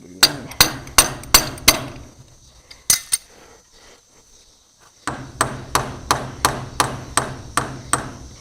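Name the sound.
hammering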